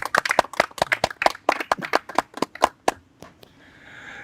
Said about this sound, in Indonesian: tepuk tangan yang ikhlas